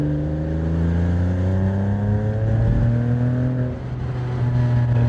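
A Porsche 987 Boxster engine pulls hard in second gear, its rising harmonic drone building steadily and loudly from inside the cabin, dipping briefly before climbing again near the end.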